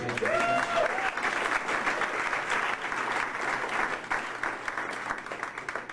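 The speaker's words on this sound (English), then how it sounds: "I also want to offer up a big round of applause for your wait staff" A comedy show audience claps for the wait staff, a dense, sustained round of applause filling the room with a brief whistle near the start.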